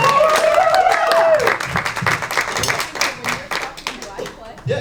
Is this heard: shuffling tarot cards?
no